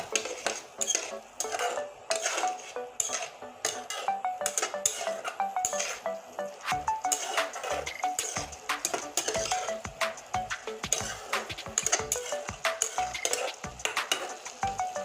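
Masala for rohu fish curry is stirred and fried in a pan with a little water, a quick run of metal spatula scrapes and clinks against the pan over a soft sizzle, close and busy with no talking.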